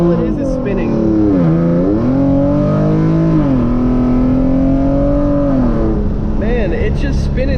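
A tuned Hyundai Genesis Coupe 3.8 revs hard as its wheels spin under acceleration, the loud engine note climbing and dipping through gear changes. Near and sustained, with a brief power cut before it pulls again.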